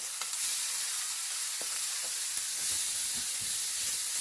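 Steady, loud hiss of mixed vegetables for chicken vegetable pulao sizzling in a frying pan, with a few soft clinks and stirring knocks underneath and no talking.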